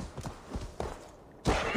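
Horse hooves in Assassin's Creed Valhalla give a few sparse, soft clip-clop thuds, followed by a louder burst of noise near the end.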